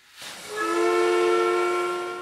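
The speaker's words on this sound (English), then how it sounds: "people can set their clocks to the sound of the steam whistle at Corner Brook Pulp and Paper" The steam whistle at the Corner Brook Pulp and Paper mill in Newfoundland opens with a hiss, then settles into a loud, steady multi-tone blast that holds without a break.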